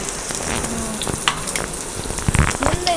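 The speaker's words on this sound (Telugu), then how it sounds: "ఆయిల్ కాగాక ఉల్లిపాయ ముక్కలు వేసుకోవాలండి" Onion pieces fry in hot oil with a steady, dense sizzle and crackle, broken by scattered pops, close and fairly loud throughout.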